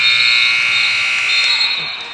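End-of-game buzzer at a high school basketball game between Westville Blackhawks and Chesterton Trojans, one long loud electronic blare held steady for about two seconds before tailing off.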